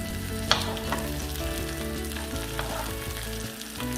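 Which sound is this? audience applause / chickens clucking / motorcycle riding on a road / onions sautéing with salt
onions sautéing with salt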